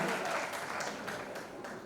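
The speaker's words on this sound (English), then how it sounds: "So a huge round of applause for Mahima again" A college audience claps steadily in a continuous wash of applause, a little way off and fairly soft, with no clear voices over it.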